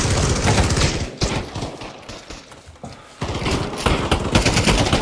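Gunfire at a shooting range, rapid bursts of loud, close shots in quick repeated volleys with a brief lull in the middle before firing resumes.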